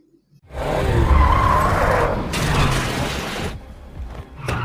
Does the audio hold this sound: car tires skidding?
yes